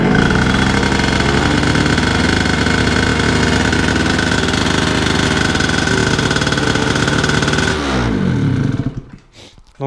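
A Derbi AM6 moped engine fitted with a Ducati ignition runs loud and close at a steady idle, then cuts out near the end and falls quiet.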